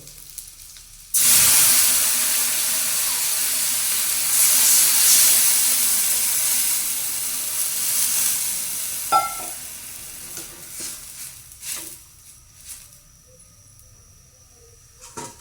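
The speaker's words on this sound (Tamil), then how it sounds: "இப்போ நாங்கள் ரெண்டாவது பால விடுவோம்" Coconut milk, the second extract, hits golden-fried onions in a hot pan for egg curry with a sudden loud hissing sizzle that holds steady, then slowly eases, broken by a few clinks and scrapes.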